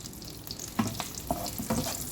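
Garlic strips toasting in a pan for pinakbet topping, a soft continuous sizzle with a few light stirring clicks.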